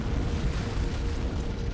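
Deep, rumbling blast of an antimatter charge detonating aboard a ship in the video game Halo: Combat Evolved, a continuous heavy low roar with no one speaking over it.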